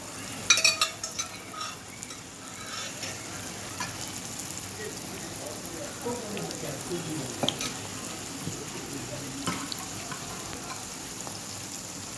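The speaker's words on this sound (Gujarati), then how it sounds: "હવે આપણે એમાં સમોસા તળવાના છે." Cheese paneer samosas fry in hot oil inside an iron kadai, a dense continuous sizzle and bubbling that holds steady throughout, with a few clinks of a utensil near the start.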